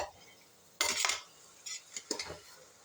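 A few clattering scrapes of a utensil stirring onions in a pan, in short bursts separated by quiet gaps, close by.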